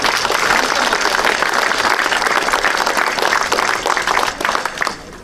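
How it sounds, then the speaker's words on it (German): Sustained applause from an audience at the inauguration of a memorial bench, dense and steady clapping that fills the whole stretch before thinning slightly near the end. "Bitte einen Applaus."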